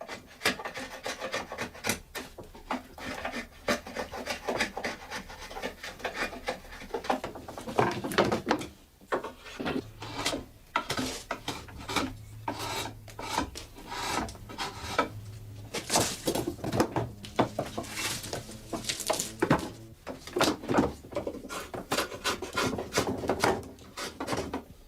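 Draw knife shaving and fitting wooden rake teeth by hand: irregular rasping, scraping wood strokes with soft knocks, close and fairly quiet, continuing in uneven bursts throughout.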